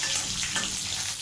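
Curry leaves sautéing in hot oil, a steady broadband sizzling hiss with a soft crackle, continuous and fairly close throughout.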